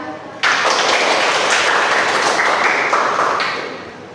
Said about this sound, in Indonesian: Aku kasih aplaus untuk Ija